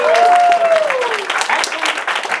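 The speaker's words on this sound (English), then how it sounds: "A round of applause for my mom, ladies and gentlemen." Audience applause, a dense steady clapping from a crowd filling the whole stretch, with a brief whistle-like tone rising over it at the start.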